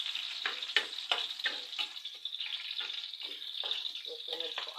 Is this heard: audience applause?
no